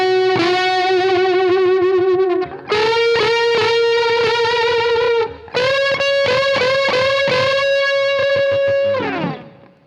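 Heavily distorted electric guitar plays a riff using unison string bends, loud and sustained across three long phrases with brief breaks between them.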